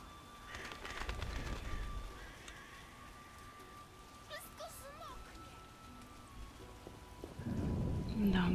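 Rain falls steadily in The Witcher game, a soft constant hiss with low thunder rumbling faintly, while someone talks over it in Polish.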